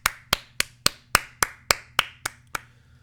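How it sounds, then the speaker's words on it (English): Slow, evenly spaced hand claps, about ten sharp crisp strikes close by, fading slightly toward the end, with no talking, suggesting applause at a hearing for a sketch spoof. "Geary walks off in applause."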